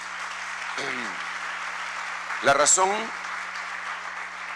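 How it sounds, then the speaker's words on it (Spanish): Applause from a church congregation runs steadily underneath, while someone speaks briefly over it during a sermon. "Dele ese aplauso al Rey bendito."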